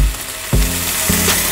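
Chicken and onion frying in a pan, a close, steady sizzle with a couple of sharp scraping stirs, no talking.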